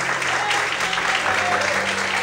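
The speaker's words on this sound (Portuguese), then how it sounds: "Quantos podem aplaudir o Senhor?" Congregation in a church service clapping together in a sustained, dense burst of applause, loud and even throughout with a faint background hum.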